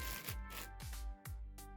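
A torn plastic shipping bag from a Temu parcel holding an anime girl figure is ripped and rustled open close by, in several crisp crackling bursts with brief pauses and no talking.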